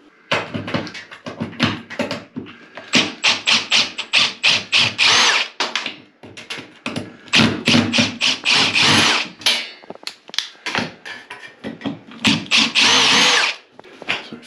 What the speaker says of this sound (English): what we've got here is just these screws that are holding it to the wall. So we'll get them undone